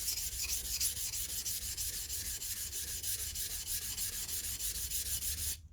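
A knife blade rubs steadily across a coarse Venev corundum sharpening stone, grit 150, cutting a wide bevel with a continuous gritty scraping, in close and even strokes that stop abruptly at the end.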